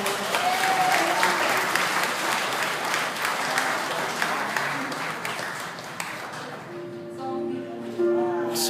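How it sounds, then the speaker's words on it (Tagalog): A wedding crowd applauds in a dense, sustained wash of clapping that gradually thins, with a few faint voices and music creeping in near the end. "Applause for this."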